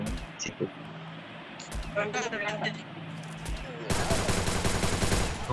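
Gunfire in the Free Fire mobile video game, a dense rapid burst of shots near the end following quieter game sounds, with a player talking over it.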